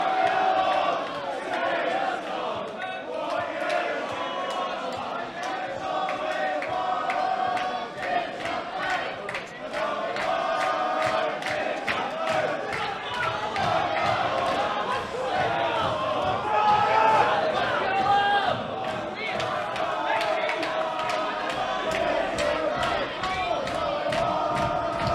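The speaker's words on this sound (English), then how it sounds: "The crowd are getting into it now." A packed arena crowd at a live fight night roars and cheers nonstop, a dense, loud wall of voices that swells and peaks without pause.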